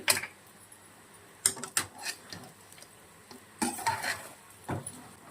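Paneer fried rice being stirred and fried in a pan, with soft sizzling under intermittent scraping and clinking of a spatula against the pan, close and fairly quiet.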